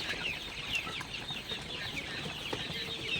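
Sonali super hybrid chickens on a farm at night, a flock clucking and chirping continuously at moderate level with overlapping soft calls.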